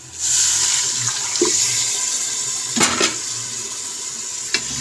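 Water pours in a steady, rushing stream into a pressure cooker of chana, with a couple of faint clinks of metal partway through.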